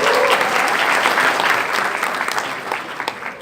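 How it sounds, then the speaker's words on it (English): Audience applause at a YouTube FanFest Delhi 2018 event for a woman who received an award from the President of India, broad dense clapping filling the hall, steady at first then thinning slightly toward the end. "can we have a huge round of applause for her?"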